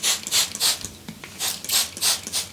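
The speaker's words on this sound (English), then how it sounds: "Since my hair has dried down a little, I'm just gonna re-spray it." Hair spray mists onto damp, shorter hair in a series of short hissing bursts, about seven quick pumps in an uneven rhythm, close and fairly loud with no talking.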